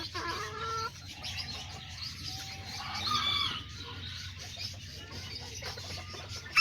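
Several chickens and a rooster in a backyard pen cluck steadily, with short calls overlapping and a louder burst near the middle and at the very end.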